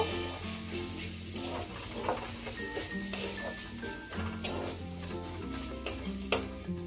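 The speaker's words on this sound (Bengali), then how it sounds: "এবার এর মধ্যে দেব ধনিয়া পাউডার দিয়ে এটাকে একটু মিশিয়ে নেব" Coriander powder is stirred into a frying spice paste for a moong dal and spinach dish, with repeated scraping and clinking of a spoon against the pan over a steady sizzle and soft background music.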